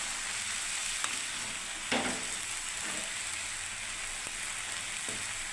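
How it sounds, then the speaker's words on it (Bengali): Cabbage with carrots and peas fries in a pan while being stirred, a continuous close sizzle broken by a few sharp scrapes and knocks of the spoon. "বাঁধাকপিতে গাজর কড়াইশুঁটিটা ঢেলে দিলে এবার আমি নাড়তে থাকছি"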